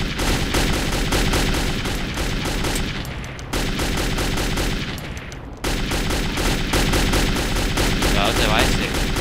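Rapid, dense gunfire from the video game Metro 2033 fills the whole stretch, bursts of shots running nearly nonstop with two brief dips, loud and close in a tunnel setting.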